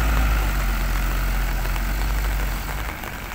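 Backhoe engine idling outdoors at a work site, a deep, steady diesel rumble close by and loud, holding even before easing slightly toward the end.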